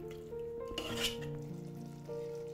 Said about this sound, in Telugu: ఇవి రెండు యాడ్ చేసేసి బాగా కలిపేసుకోవాలి